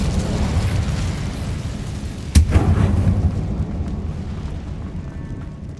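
An Incendio fire spell cast in Hogwarts Legacy makes one sharp burst that flares into a brief whooshing blaze and dies away, set against a constant dense rumble of game ambience.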